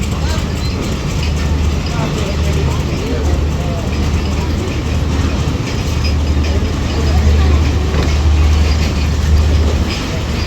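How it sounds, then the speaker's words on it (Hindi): The 45 Pakistan Express pulls out of Lahore Railway Station with a steady low rumble and rolling noise throughout, under constant station ambience and a voice talking. "करीबन 5 मिनट के फासले से ये ट्रेन निकल रही है 45 पाकिस्तान एक्सप्रेस"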